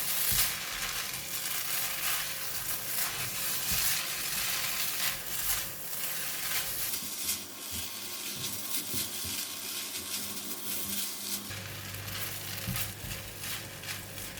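Rice vermicelli stir-fried with garlic, Chinese parsley and egg, a continuous dense sizzle with scraping and tossing from the pan throughout, steady and close.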